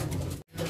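Cooing of a banded racing pigeon, soft repeated low coos heard up close, broken by a brief silent gap partway through.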